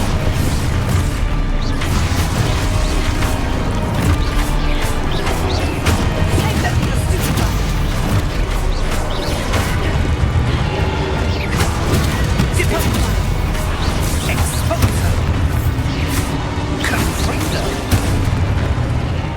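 Spell blasts from the Hogwarts Legacy video game burst in rapid succession, loud booms and crashes layered densely over a constant rumble of combat, with voiced spell incantations shouted among them.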